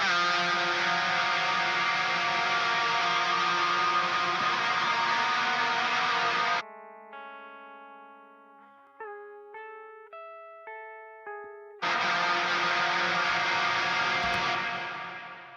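Dense distorted modern metal band playing, then a drop into a sparse synth arpeggio with long echoing tails, drowned in Valhalla reverb, before the heavy wall of guitars crashes back in.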